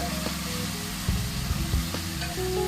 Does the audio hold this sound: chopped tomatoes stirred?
yes